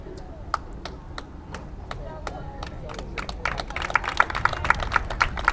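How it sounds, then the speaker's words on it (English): Applause breaks out at a girls' high school soccer match as an injured player hobbles off the field, scattered claps that build into a denser round of clapping from a modest crowd, heard outdoors at a distance. "She gets an applause."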